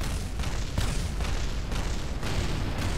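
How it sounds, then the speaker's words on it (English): A constant explosion in the game Kerbal Space Program: dense, roaring booms and crackling bursts run together without a break, loud and continuous, with no voices. "That's just a constant explosion."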